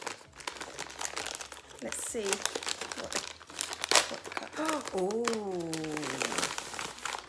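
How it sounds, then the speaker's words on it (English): Crinkly plastic packaging of a sock-yarn advent calendar rustles and tears in close, irregular bursts while someone talks quietly and a higher voice chimes in. "Excuse the rustling."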